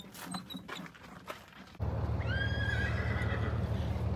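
A horse whinnies outdoors at a barrel race, a clear rising and falling neigh that follows a stretch of hoof clip-clop and shuffling, set against a steady low rumble like an engine or wind.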